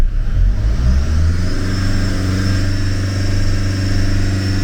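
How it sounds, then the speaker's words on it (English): A diesel car engine held steady at 2000 RPM during DPF diagnostics, a loud, even mid-range drone with a constant hum and no talk over it. "Now if we hold it at 2000 RPM, we need to be seeing around about 80-ish,"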